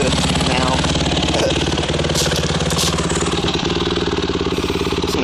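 A rebuilt Honda CRF150R dirt bike engine idles steadily with a fast, even, close-up thumping chatter, running continuously without a break.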